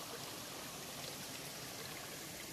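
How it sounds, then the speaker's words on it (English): Steady rushing water from a waterfall beside a clear pond on a Maine trail, a continuous broadband roar with no pauses and no voices. "Just a waterfall."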